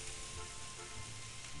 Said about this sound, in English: It's frying